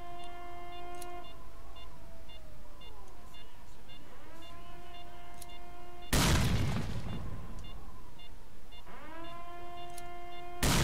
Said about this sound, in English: Let's do a grenade.